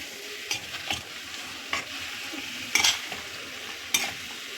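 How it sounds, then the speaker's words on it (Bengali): Chopped tomato frying in fish oil, stirred with a spoon in a pan: a steady sizzle with a few sharp scraping stirs at irregular intervals, close and alone. "টমেটো কুচিটা দিয়েও ভালো করে মিশিয়ে দেব একদম তেল ছাড়া শুধু মাছের তেল দিয়েই রেসিপিটা করছি"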